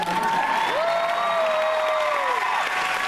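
Loud, dense applause from a packed convention panel audience, with cheering and a sustained whistle rising over the clapping.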